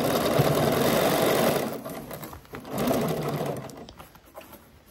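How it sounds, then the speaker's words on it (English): A domestic sewing machine runs a half-inch seam along a pant leg, whirring steadily for over a second, pausing briefly, then stitching again in a second continuous burst before tapering off; close and loud. "And we're sewing this at a 1/2 inch seam allowance"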